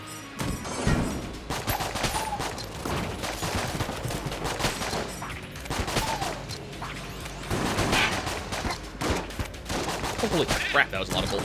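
Rapid bursts of video-game gunfire from a gun in Enter the Gungeon, dense crackling shots rattling continuously with crashes and impacts, loud and close, with faint talk mixed in.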